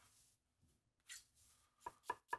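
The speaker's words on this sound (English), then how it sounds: "chef, keep chopping" A knife chops onion on a cutting board, a few scattered strokes and then three quick, sharp, close knocks in a row, with no talking.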